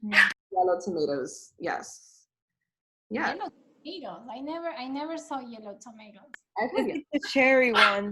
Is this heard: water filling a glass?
no